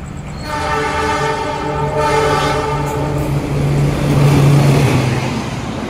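An Airlangga economy train rumbles past nearby, meeting the Argo Bromo Anggrek night train, while a horn sounds one long, steady blast that swells louder toward the end.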